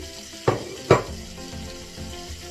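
Chopped sweet potatoes drop into melted butter in a pan, giving two sharp close splashes and then a soft steady sizzle.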